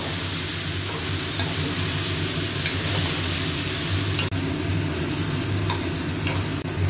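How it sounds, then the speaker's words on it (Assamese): Pork meat stirred and fried in a pan for a curry, a loud steady sizzle with occasional scraping stirs and small clinks, close up and continuous, without talk. "এতিয়া মাংসটো দি আমি লৰাব"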